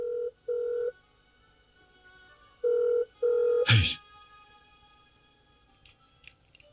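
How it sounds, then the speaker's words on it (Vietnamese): A telephone rings in two-tone bursts, two short rings, a pause, then two more, steady and fairly close, followed by a sharp clatter as if the receiver is picked up, in a drama scene with no talk. "Nghe điện thoại đi xem."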